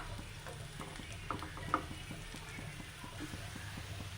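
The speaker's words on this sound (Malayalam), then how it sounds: "അങ്ങനെ ഒരു പുറം ഫ്രൈ ആയി വന്നിട്ടുണ്ട് ഇനി നമുക്കത് മറിച്ചിടാം നമുക്കത് മറിച്ചിട്ട് കൊടുക്കാം" Plantain slices fry in a pan with a constant soft sizzle while a utensil flips them, giving a string of light, regular clicks and taps and one sharper knock, close and fairly quiet.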